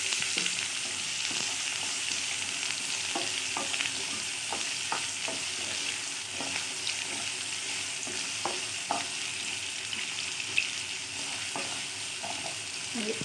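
Onions frying in hot oil in a kerahi (wok) for an Assamese baingan bharta, a steady close sizzle with intermittent stirring clicks and scrapes throughout.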